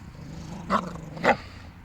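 A dog's low, rumbling growl runs steadily, broken by two short, sharper snarling bursts close to the listener.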